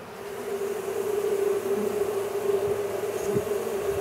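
A hot honey bee swarm being installed into a box, with many bees flying around in a dense cloud, makes a steady, continuous buzzing drone that stays fairly loud and even throughout, close to the listener.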